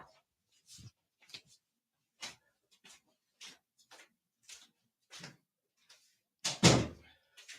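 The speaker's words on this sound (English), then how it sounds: "I had to run up and shut the door" A door is shut: scattered light knocks and shuffles lead to one heavy, close thud near the end, followed by a short fading rattle in an otherwise quiet room.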